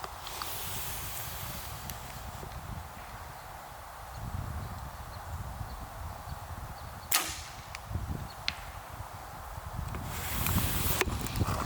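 An arrow loosed from a bow at a long-range archery target gives a few faint sharp snaps and whooshes, spread over outdoor background noise with occasional thuds.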